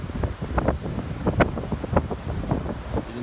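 Wind gusting at Cable Beach rumbles steadily against the microphone, low and continuous with a few sharper buffets, no voices.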